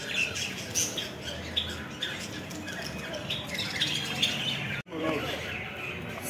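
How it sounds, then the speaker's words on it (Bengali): Caged birds at a market stall squawk and chirp in a busy chorus, small birds twittering continuously at close range with faint crowd murmur beneath, briefly cut near the end. "অনেক সুন্দর পাখি এগুলো।"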